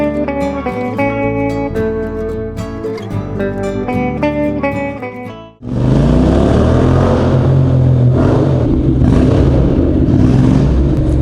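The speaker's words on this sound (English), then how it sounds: "You got to enjoy a car park when you're hooning around with an loud exhaust." A motorcycle with a loud exhaust hoons around a car park, its engine roaring and revving hard and close, the rough blare following a few seconds of music.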